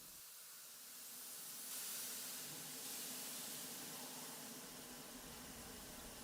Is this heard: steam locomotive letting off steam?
yes